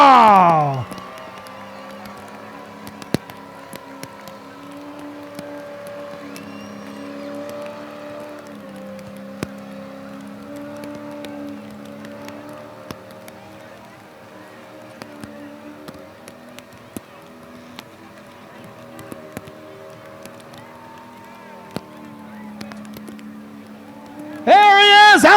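The Project Fireball race car laps a rain-soaked Rockford Speedway at night, its engine a steady droning hum that rises and falls through the lap. A loud announcer talks over it, and the crowd lifts near the end.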